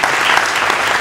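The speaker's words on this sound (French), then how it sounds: "Je vous demande d'applaudir" Dense applause from an audience at a French summer university event, a steady wash of many clapping hands, loud and close, filling the whole second without pause.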